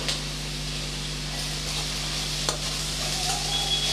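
Brinjal sautés in a pan for a tangy thokku with salt and curry leaves, giving a steady close sizzle with soft stirring scrapes and one sharp clink. No one speaks.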